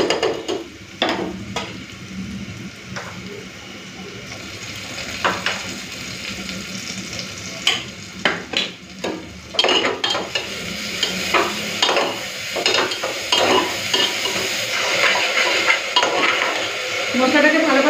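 Ginger-garlic and dry red chilli paste frying with browned onions for a Bengali curry, a continuous close sizzle cut by frequent sharp clinks and scrapes of a spatula against the pan.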